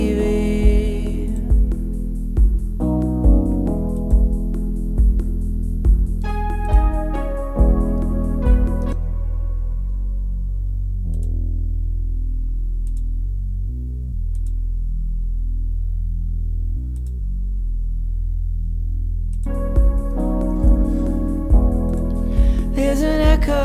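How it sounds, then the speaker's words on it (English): A music mix in Pro Tools with an echo effect on the 2 bus, its repeating beat and bright chords falling away into a long washy reverb tail before the full groove returns, loud and steady with no talking. "There's an echo about it, one that swallows the room."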